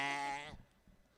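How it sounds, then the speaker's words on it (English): A cat lets out a single hoarse, goat-like bleating meow that is nasal, harmonic and fairly close, then fades into faint room noise. "He sounds like a billy goat just limping around the house."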